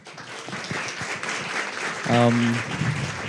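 Conference audience applauding at the close of a session at an international patent court conference, a steady moderate crowd clapping throughout, with a brief tonal sound partway through.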